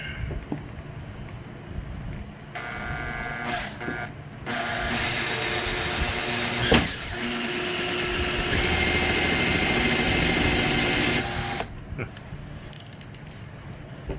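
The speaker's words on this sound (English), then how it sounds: "let's get these 2 little holes drilled out here." A power drill bores two small holes for hitch wiring on a Nissan Frontier, with a steady mechanical whir that comes in bursts of several seconds, broken by short pauses and a sharp knock.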